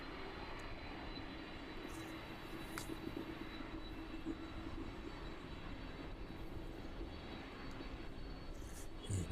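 Jet aircraft rolling along a runway at East Midlands Airport, a faint, steady broadband engine roar that holds at a distance for several seconds with no voices.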